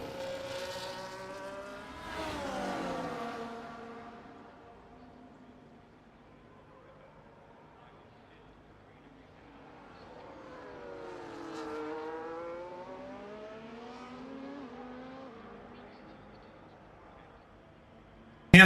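F1 race cars in the F1 24 video game drive down a back straight, engine whine rising and falling in pitch as the cars pass, loud at first then fading before a second run builds, with faint commentary-like speech underneath.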